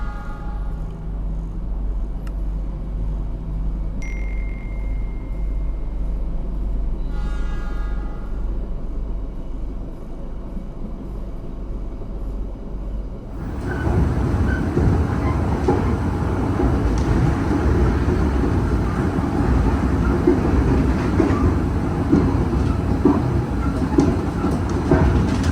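A KA Joglosemarkerto passenger train pulls away from Kebumen station, starting with a quiet low rumble and a few short tones, then surging at about 13 seconds into a loud, steady, broadband roar of rolling wheels and engine.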